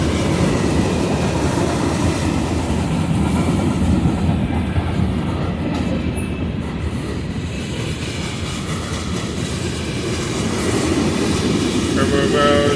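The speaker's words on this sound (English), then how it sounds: "Early morning train." An early morning mixed manifest freight train rolls past at speed, a steady loud rumble with rhythmic wheel clatter that swells toward the end, heard alone without talk.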